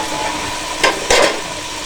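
Spices tempering in hot oil as a tadka for chicken pulao, a close, steady sizzle with two brief louder bursts of crackle and stirring partway through.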